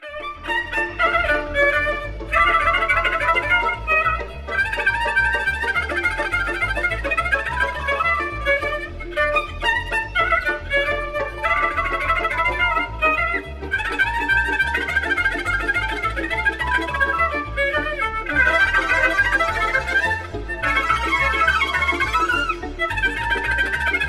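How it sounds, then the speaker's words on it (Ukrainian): Solo violin plays Vittorio Monti's Csárdás, a Hungarian folk-dance piece, with a bright melodic line, rapid note runs and bowed phrases carrying on steadily and clearly with no talking. "Послухай, як звучить Чардаш Віторіо Монті, коли грає скрипка."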